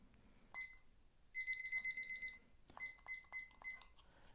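A kitchen timer going off with bursts of bright electronic beeping, a short burst, then a longer run of rapid chirps, then more pulsed beeps, close and clear in a quiet room.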